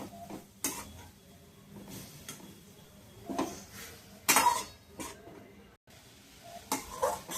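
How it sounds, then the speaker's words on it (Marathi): A spoon stirs carrot halwa with milk in a pot, giving faint, sparse scrapes and clinks against the metal with one brief louder knock, all at low level with no talk. "आता आपण ह्याच्यामध्ये दूध टाकून घेऊयात आणि हलवून घेऊयात"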